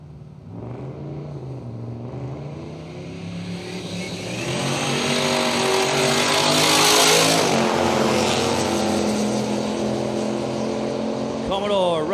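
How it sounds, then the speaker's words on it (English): Drag car, a big Holden Commodore turbo doing a burnout at Willowbank Raceway, with a loud revving engine that builds into a roaring, screeching peak and then holds a harsh drone, while a commentator talks over it. "And working that big val hard in the burnout."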